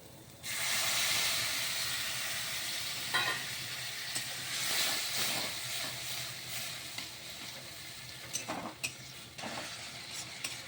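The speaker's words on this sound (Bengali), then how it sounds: "এবারে আমি আলুটাকে ঢেলে দেবো।" Potatoes going into a hot pan of fried bitter greens, a strong continuous frying sizzle and hiss with scattered stirring scrapes and knocks throughout.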